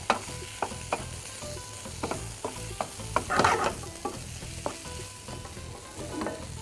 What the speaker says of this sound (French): tout en gardant un œil sur nos pommes de terre. Venir remuer de temps à autre.